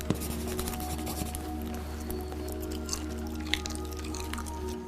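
Close-up chewing of dried kiwi with a wet, sticky texture: soft squishy, tacky mouth sounds and small smacking clicks scattered over a low steady hum.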